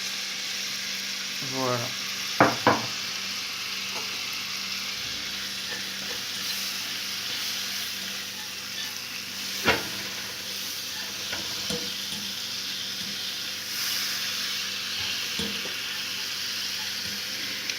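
Seitan fries in a pan for curry, a steady sizzle with scattered clicks and scrapes of stirring, and a short spoken word partway through.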